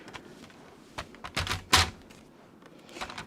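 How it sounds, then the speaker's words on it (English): Stamped paper is trimmed for a craft project, heard as a few light cuts and clicks spaced irregularly, with one sharper snap in the middle, fairly close and quiet. "Right, let's trim this up."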